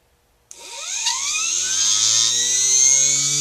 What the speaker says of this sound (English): Can't run this for long because I know it'd blow this motor because it just goes crazy